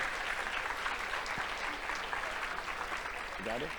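An audience at a tech conference's closing keynote applauds honorable mentions for a demo award, with steady, dense clapping filling the room throughout and a brief voice near the end.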